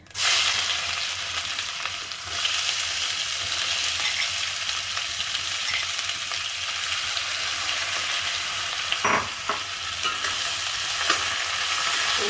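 Onions hit a pan of hot oil and cumin seeds with a bright burst, then settle into a strong, steady sizzle with brief spatula scrapes and a clatter near the end, close and unaccompanied by speech.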